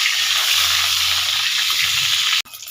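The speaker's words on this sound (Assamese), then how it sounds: "কণী ভাজি আছে" Eggs frying in a pan produce a constant bright sizzle that hisses steadily for a couple of seconds and then cuts off abruptly.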